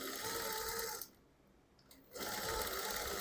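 A sewing machine stitches in a fast, even whir, stops for about a second, then starts up again and runs on, close and loud.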